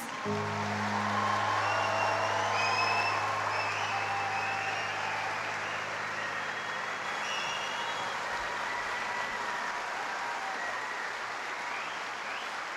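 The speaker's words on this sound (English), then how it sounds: "Let's give a round of applause to our graduates." A graduation audience gives a round of applause for honors graduates, a sustained, even clapping from a large crowd over a low steady hum, holding at one level from start to finish.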